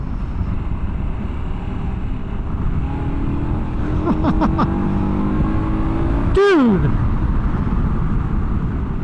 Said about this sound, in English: Dude, this engine pulls so good.